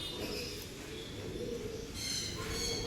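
Soft, low pigeon coos repeat in the background over a steady murmur of ambient noise, with faint higher chirps now and then.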